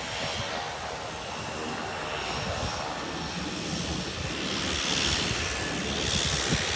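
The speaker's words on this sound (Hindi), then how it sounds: "ये वैंकूवर में हवाई जहाज़" Airplane flying over Stanley Park in Vancouver, a loud, steady broadband engine roar that swells slightly toward the end, with no talking.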